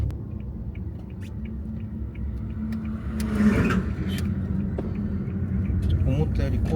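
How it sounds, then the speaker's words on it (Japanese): Road traffic near a remote village in Kumano, Mie, with a car rumbling past up close and swelling briefly before fading, set against a steady low outdoor hum while people talk. "思ったより交通量が多いな。"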